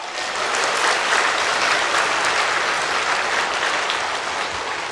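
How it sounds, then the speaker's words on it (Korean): A church congregation at a Sunday worship service in Daejeon applauding, a loud, dense and sustained round of clapping filling the hall from start to finish. "박수"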